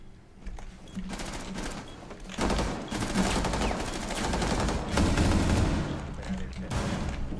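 Sustained automatic gunfire in Rainbow Six Siege, rapid bursts of shots that intensify after a brief pause, with dense continuous firing near and loud, under occasional voice chatter.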